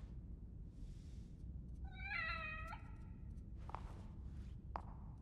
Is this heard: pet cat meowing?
yes